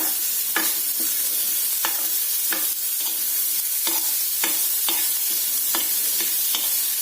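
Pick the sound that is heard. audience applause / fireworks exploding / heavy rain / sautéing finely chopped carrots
sautéing finely chopped carrots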